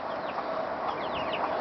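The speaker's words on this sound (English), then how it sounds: "got some of my chickens" A steady chorus of month-old chickens, including a Frizzle Cochin Bantam, cheeping and clucking nearby, continuous and moderately loud with no talking.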